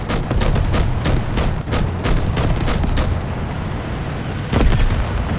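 Simulated gunfire in a plastic toy soldier battle set in thick jungle, a steady string of sharp shots cracking every fraction of a second over a rumbling background.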